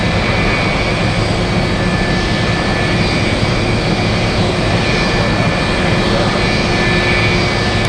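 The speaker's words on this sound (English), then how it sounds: "For awesome cargo flying in from Mexico City. It's an A330-200." An Airbus A330-200 cargo jet arriving from Mexico City roars with a steady, loud engine rumble that stays constant throughout, with no break or pause.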